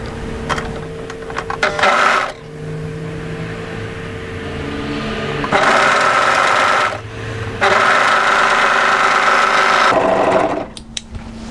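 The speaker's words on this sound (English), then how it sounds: "we're going to overlock from the edge here through to a fold" An overlocker sews along the edge of a slim draped cardigan, its fast loud whirring running in three long bursts separated by brief pauses, close to the listener.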